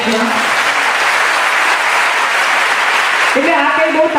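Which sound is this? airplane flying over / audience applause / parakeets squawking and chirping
audience applause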